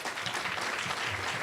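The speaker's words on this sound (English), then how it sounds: "let's have him a round of applause." An audience applauds a speaker at a public question session, a dense steady patter of many hands clapping, moderately loud and continuous with no voices.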